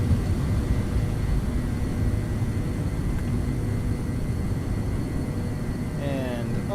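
Engine roar of an MD-82 airliner accelerating down the runway on takeoff in Microsoft Flight Simulator, a steady loud rumble held throughout, with a brief chirp near the end.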